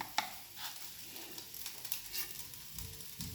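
Soybean chunks fry in hot oil in a pan, a steady soft sizzle with faint crackles and a few stirring scrapes, close and fairly quiet.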